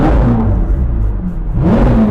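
A warmed-up McLaren 720S engine is revved hard up close, giving a loud, dense roar that swells, eases briefly, then rises again.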